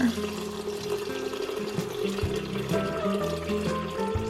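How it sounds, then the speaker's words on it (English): Warm water pours steadily from a tap or jug into a bowl of sourdough levain on a kitchen scale, a continuous gurgling splash with shifting pitch that lasts throughout. "we're gonna add the 600 grams of warm water"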